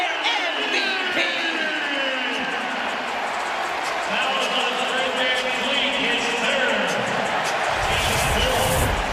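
Basketball arena crowd at a 76ers–Raptors game cheering for Joel Embiid, a dense roar that swells toward the end, mixed with sneaker squeaks and heard beneath steady play-by-play commentary.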